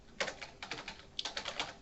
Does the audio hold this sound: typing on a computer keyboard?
yes